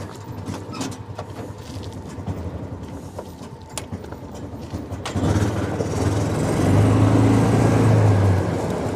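A 2005 John Deere Gator TS utility vehicle engine cranks and fires up about halfway through, settling into a steady close idle after a quieter stretch of faint ticking and rustle.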